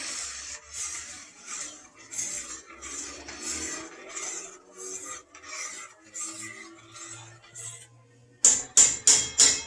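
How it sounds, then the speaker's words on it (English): A spoon stirs homemade turkey noodle soup in a pot with a steady run of rhythmic scraping strokes, followed by a few sharper, louder knocks against the pot at the end. "we'll go ahead and give that a good stir"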